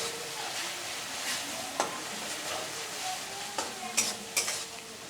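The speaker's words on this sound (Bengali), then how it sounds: "আদা পেঁয়াজ রসুনের সবার কাঁচা গন্ধটা যাওয়া অবধি আমি এটাকে ভালো করে কষিয়ে নেবো" Ginger, onion and garlic stir-frying for a chicken curry with potatoes, a soft continuous sizzle with a spatula scraping and tapping the pan at irregular intervals, close up and without talk.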